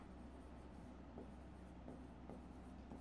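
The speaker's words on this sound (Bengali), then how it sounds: "এবার এই জায়গায় আমরা লিখব বিলম্বিত বিজ্ঞাপন।" Faint scratching and tapping of writing on a board during an accounting lesson. Soft strokes come at intervals over a quiet room hum, with no speech.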